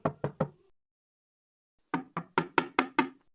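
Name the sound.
knocking on an apartment door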